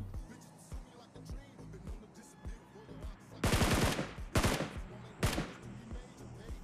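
Gunfire in the mobile battle royale game BGMI, aimed at a bot: several loud bursts of rapid automatic shots crackle close by, separated by short pauses, over quieter in-game footsteps and background movement.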